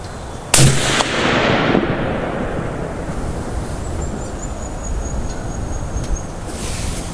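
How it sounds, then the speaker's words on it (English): A single loud rifle shot from a Howa Super Lite in 6.5 Creedmoor, firing reloaded rounds with 47.8 grains of Reloder 26, cracks sharply and close by, then decays into a long rumbling echo over steady outdoor wind. "Alright, so I've just put 2 shots down"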